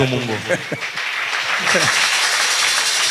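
A church congregation breaks into applause and acclamation, a broad wash of clapping and cheering voices that swells after a brief burst of speech and continues steadily.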